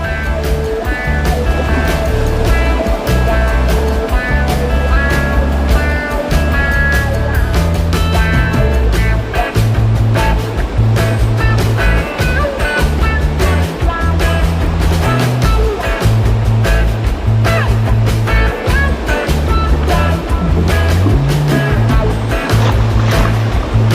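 Ocean surf at Strickland Bay on Rottnest Island, a loud, continuous roar of breaking waves and wash with gusty low rumble throughout, no talking.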